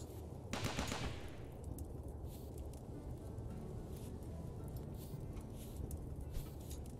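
A turret in RimWorld firing a short burst of rapid shots near the start, faint and brief, followed by low quiet background.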